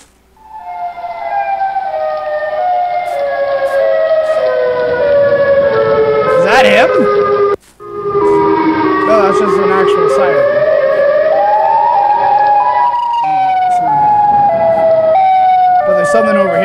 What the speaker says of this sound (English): that's just a siren